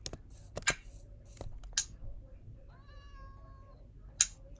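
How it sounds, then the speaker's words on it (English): A Minecraft cat meows a few times, short sharp calls spread across a quiet game scene, with a soft drawn-out tone in the middle. "Oh, I hear a cat."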